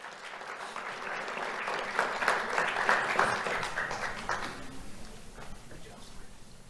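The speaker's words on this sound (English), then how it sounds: "Let's have a round of applause for Rashad Underwood." Audience at a youth awards ceremony claps for an honoree, sustained even applause that swells in the middle and tapers off, with a voice heard faintly underneath.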